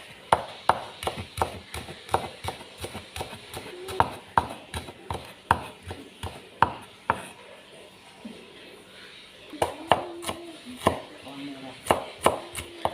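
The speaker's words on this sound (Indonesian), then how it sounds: "Kemudian daun seledri kita iris juga." Knife chopping celery leaves on a cutting board in a home kitchen, a quiet series of sharp, evenly paced taps that come in runs with brief pauses between them.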